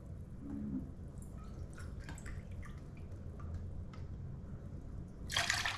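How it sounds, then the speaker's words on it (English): White distilled vinegar is poured from a measuring cup into a container for pickling fermented garlic, soft drips and trickles followed by a brief, brighter splashing pour at the end. "I'm gonna put 4 cups of vinegar in here."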